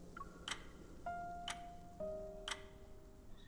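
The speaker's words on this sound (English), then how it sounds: "The ticking of clock hand echoes in the dimly lit room" A clock ticking in a dim room in the video game Love and Deepspace, sharp ticks spaced exactly one second apart over quiet sustained background tones, faint and alone.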